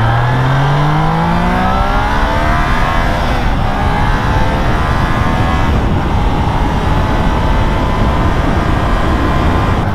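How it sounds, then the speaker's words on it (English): Triumph Trident motorcycle engine pulling hard in second gear, loud and close, the revs climbing steadily under heavy throttle in a continuous rising howl, no speech. "just giving it lots of throttle. Getting the revs right up there."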